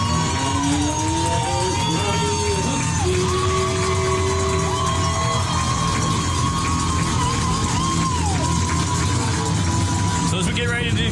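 Crowd noise at a night high school football game between West Caldwell and Ashe County, a steady din of voices with yells, whoops and cheers throughout as the teams prepare to take the field, with occasional tones overhead.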